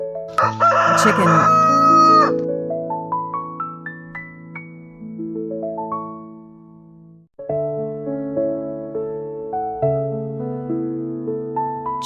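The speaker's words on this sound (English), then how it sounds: "Chicken." A chicken rooster crows loudly and close, a long rising and falling cock-a-doodle-doo with some clucking at the start, followed after a short pause by a second full crow, with no other sounds.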